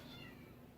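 Kittens at play in a home kitchen let out a faint meow, heard briefly and at a distance over a steady background hum.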